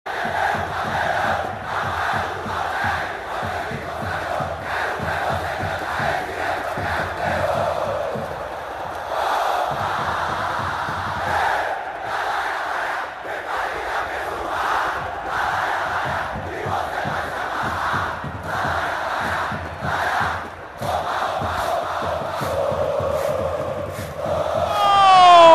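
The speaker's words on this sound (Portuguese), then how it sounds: "É o casá-casá, a confiança da torcida do Esporte." Sport Recife supporters chanting the rhythmic casá-casá in a packed stadium at Ilha do Retiro during a derby, a loud, sustained crowd roar of massed voices.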